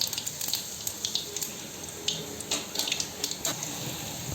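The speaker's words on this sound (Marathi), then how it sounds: "मी आता मोहरी टाकलेली आहे मोहरी चटचटली की टाकायचं" Mustard seeds splutter in hot oil in a pan, with close, irregular sharp pops and crackles over a steady sizzling hiss.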